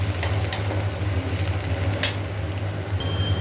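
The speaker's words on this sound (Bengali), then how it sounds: "পেঁয়াজগুলো দিয়ে দিয়েছি, এবার এটাকে ভালো করে ভাজি" Onions fried in a pan after tempering spices, a steady low sizzle with a couple of sharp clinks and scrapes, no talk.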